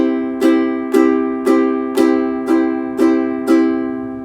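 A ukulele strummed with fingernails plays seven even, steady strums of the same chord, each a crisp bright attack ringing into the next, close and clear with no voices.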